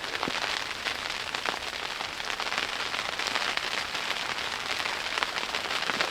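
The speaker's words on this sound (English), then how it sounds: "we got freezing rain outside right now" Freezing rain pattering steadily on the fabric of a camping tent in snowy Pennsylvania woods, a dense continuous hiss of small impacts, close and even, with no voices.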